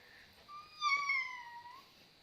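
A voice imitates a kitten, giving one thin, rising-and-falling mew that swells and fades over about a second against near silence.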